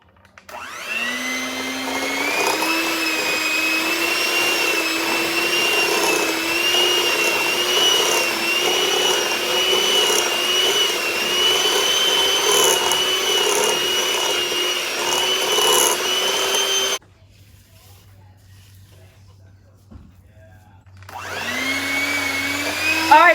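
An electric mixer creams butter with 2 cups of white sugar at medium speed, a steady close whirring hum with a wavering pitch that runs for about seventeen seconds, cuts off, then starts up again.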